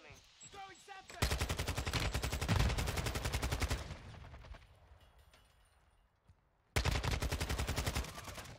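Rapid automatic gunfire from a shooter video game rattles in two long bursts, separated by a quieter stretch of softer in-game noise, with a brief voice heard at the start.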